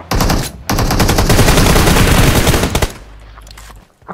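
Rapid automatic gunfire in PUBG Mobile, loud and close, a dense burst of shots lasting nearly three seconds after a short opening volley, then fading to quiet with a faint final pop.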